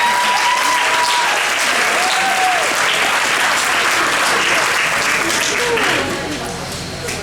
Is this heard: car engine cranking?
no